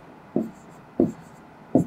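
Chalk or a marker tapping onto a board in three short, distinct strokes spaced evenly apart, close and clear against a quiet room.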